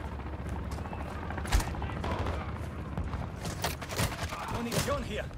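Gunfire in the video game Call of Duty Modern Warfare II DMZ: rapid bursts of automatic fire and sharp single shots crackle throughout, with some cracks louder than others, mixed with game voices.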